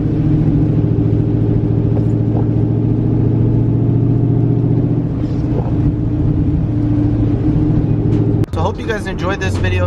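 A car idles and creeps along in slow traffic after street racing events in Florida, a steady low engine rumble with cabin hum throughout, ending in a brief sharp knock.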